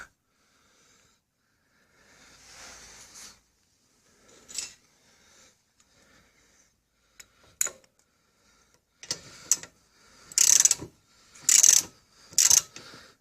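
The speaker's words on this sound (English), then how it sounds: "the lug nuts, I use a 3/4 inch deep wall socket on them." Ratcheting socket wrench with a 3/4 inch deep wall socket on the lug nuts of a 2009 Dodge Journey SXT, heard close as scattered clicking bursts and short ratchet runs, growing louder toward the end.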